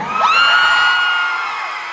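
A crowd at a live event whoops and cheers together, a loud sustained swell of shouting that rises quickly and slowly fades.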